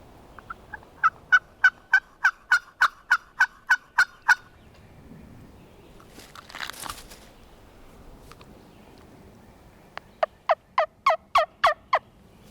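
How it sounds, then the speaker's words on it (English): A wild turkey gobbler on a logging road in late-season Alabama big woods sounds two rapid trains of sharp, rattling gobbles. The first run is long and the second is shorter, with a soft rustle between them. "This gobbler is like half strutting by himself, it looks like, down the logging road."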